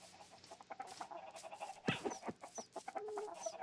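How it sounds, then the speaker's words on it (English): Chickens cluck in a Minecraft chicken breeder farm, a busy scatter of short game-style clucks and bawks, faint and layered, with one louder burst of flapping clucks midway. "this is my chicken breeder farm, so I come in here, I breed chickens"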